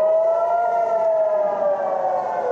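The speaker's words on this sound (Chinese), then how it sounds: "加萨的空袭警报再度响起" An air raid siren wails in Gaza, a loud sustained tone whose pitch drifts slowly downward and then cuts off abruptly at the end.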